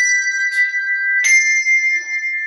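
English handbells ring one after another in descending single strokes, each bright, sustained tone overlapping the last and hanging clearly in a quiet room.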